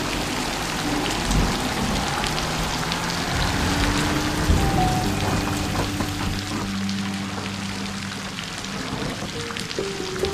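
Steady rain pours down outdoors in hilly country, a dense, even hiss of drops hitting surfaces for the whole stretch, with faint low rumbles mixed in and no talking.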